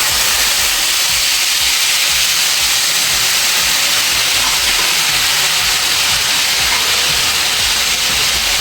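Hot Marathi tempering for capsicum masala sabzi with about two spoons of water added, giving a loud, continuous close steaming hiss that stays even for the whole stretch.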